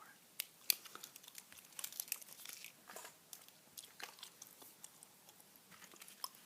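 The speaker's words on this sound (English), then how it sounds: "This is the gum I'm chewing tonight, by the way. Trident bubble gum." Trident bubble gum being chewed close to the mic, giving soft, wet, irregular crackles and smacks that run continuously at low volume with no talking.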